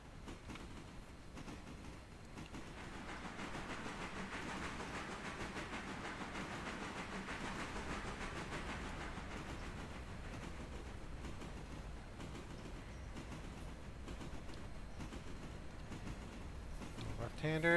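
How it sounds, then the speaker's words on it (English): Freight train cars roll past in a long, steady rumble with a low hiss and rhythmic rail clatter that holds at an even level throughout, heard at a distance. "we do gotta wait for the rest of the train to pull through"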